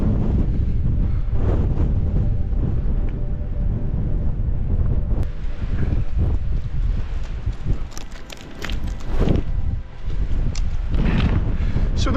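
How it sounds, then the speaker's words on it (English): Gusty wind at 30 to 40 mph roaring across a Lake District fell ridge near Ullock Pike, loud and continuous buffeting of the microphone with brief lulls. "you always get a horrible raggy gusty wind blowing in at about 30-40 miles an hour today."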